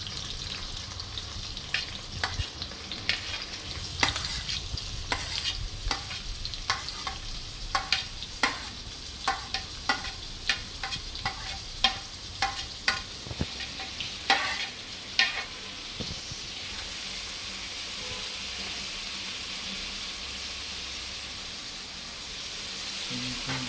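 Sliced onions sizzle steadily in hot oil for a mutton curry while a spatula scrapes and stirs the pan in repeated close clacks, the frying hiss continuing on alone after the stirring stops.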